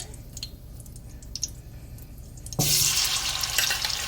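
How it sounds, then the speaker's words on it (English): Oxtail browning in a little hot oil in a pot, a sudden loud hiss and sizzle bursting in partway through after a quieter stretch of faint kitchen noise, then holding steady and close until the end. "First, you want to start by just browning the oxtail."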